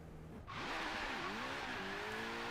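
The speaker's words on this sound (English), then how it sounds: "This is full throttle." A car at full throttle in Forza Horizon 3 with developer-modded brakes, engine roaring up suddenly after a brief lull, with rising revs and a faint tire squeal, loud and close.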